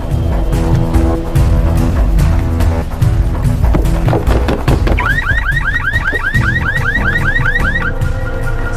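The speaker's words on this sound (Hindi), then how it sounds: "वो गाड़ी का अलार्म बज रहा है।" A car alarm on a green Volkswagen blares in a repeating whooping cycle of rising tones, loud over a dense background of music and street noise.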